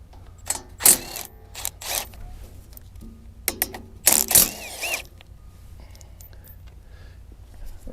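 Ratchet with a 15 mm socket loosening bolts on a Bobcat E42 excavator, several short bursts of rapid clicking ratchet strokes separated by pauses, close and fairly loud, no voices.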